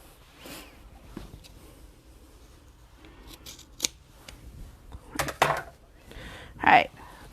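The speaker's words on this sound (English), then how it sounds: "I'm just going to trim off this overhang here" Scissors snip through the fabric overhang on a sewn bag being made, giving a few short crisp cuts and louder closing snips near the end, fairly close, with quiet room noise between them.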